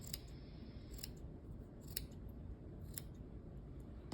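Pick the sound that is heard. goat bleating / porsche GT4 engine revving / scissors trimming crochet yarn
scissors trimming crochet yarn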